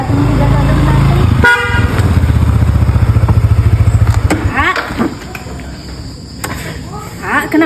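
A motorcycle idles and putters close by with a rapid pulsing engine note, then cuts off and fades, followed by scattered clicks and knocks; insects chirp in the background and a voice speaks briefly.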